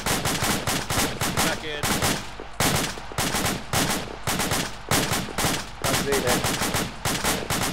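Rapid bursts of gunfire from a suppress and advance training drill, volleys crackling loud and close in repeated strings with brief gaps, a voice calling out between them.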